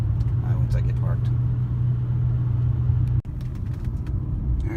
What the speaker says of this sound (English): this car is good in the turns and handles really well, always has